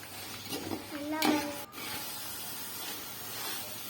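Tomatoes and onions sauté in hot oil for a chicken biryani, giving a steady, close sizzling hiss throughout, with a brief louder burst of spattering near the start.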